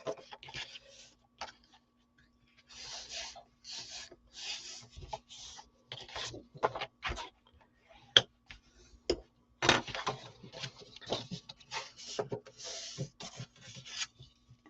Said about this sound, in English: You're going to fold on your score lines and burnish.